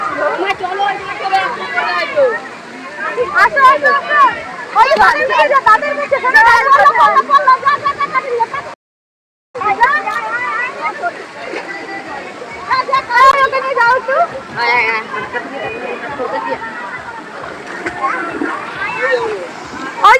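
Water splashing and sloshing at a busy water park, loud and continuous with a brief drop-out midway, under steady talking and crowd babble.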